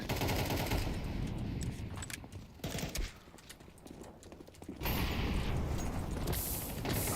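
Dense, sustained gunfire in Counter-Strike 2 as the team gets mowed down, loud rapid bursts running throughout with a brief dip in the middle before the shooting swells again.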